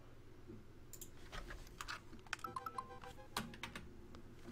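Close typing on a computer keyboard, a burst of quick irregular key clicks and taps, fairly faint and alone with no talk.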